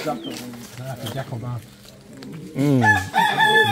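A chicken at a wildlife sanctuary in Lagos, Nigeria crows loudly and close, a rising drawn-out call near the end, with clucking sounds and people talking over it.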